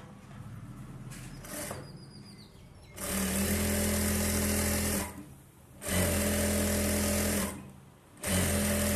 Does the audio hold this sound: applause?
no